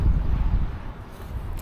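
Steady wind rumbling and buffeting against the microphone outdoors on a cold, rainy day near Dolwyddelan Castle in Wales, loud and low, with no voices.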